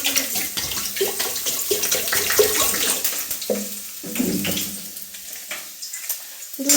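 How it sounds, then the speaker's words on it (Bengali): Water pours into a pot for rice pudding, a splashing, gurgling stream close by that rises and falls in surges, without any talking. "এখানে দিয়ে দিচ্ছি জল।"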